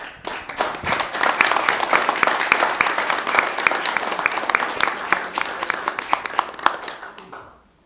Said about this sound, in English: please help me in honoring and hand applause for Drew and Sue and his animals too.